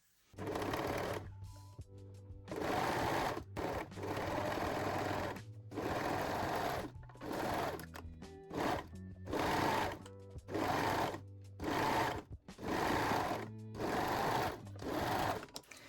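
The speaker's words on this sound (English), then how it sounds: "sew one side and the crotch seam using a serger or a zigzag stitch" Sewing machine, a serger or zigzag stitch, running a crotch seam on stretch fabric for high-waist panties in repeated bursts of fast mechanical stitching with short pauses between runs, fairly quiet and close.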